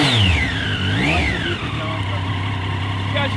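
A Triumph Street Triple RS 765 motorcycle with ride-by-wire throttle revs up and down close by, its engine pitch swooping through the RPM range in quick rising and falling sweeps.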